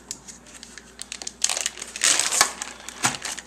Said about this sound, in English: Lay out a piece of paper towel.